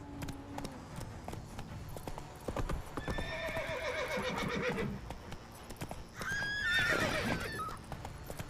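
Roach, a horse in The Witcher 3, clip-clops along with steady hoofbeats, then gives two loud, shrill neighs, the second one close and prominent, with no speech.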